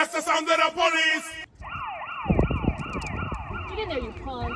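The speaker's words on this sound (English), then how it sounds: "That's the sound of the police!" Police siren wailing after a moment of speech, a rising and falling electronic tone with a loud thump partway through and a car engine rumbling beneath.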